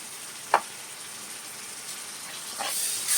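Ginger garlic paste frying in hot oil in a pan while cooking chicken, giving a steady close sizzle with a sharp tap near the start and the hiss swelling louder at the end, with no talking.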